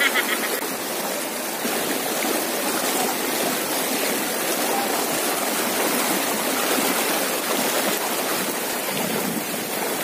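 Steady rushing water of a mountain river swollen by rain, heard at a crossing during a hike to a waterfall in Doña Remedios Trinidad, Bulacan; a continuous broadband wash fills the whole stretch at even loudness, with no voices.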